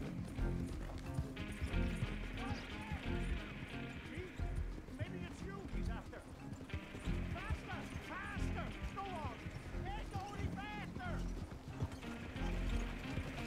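Horses galloping and pulling a wagon in Red Dead Redemption 2, quick rhythmic hoof clip-clops with occasional neighs under near-constant talking and game sounds.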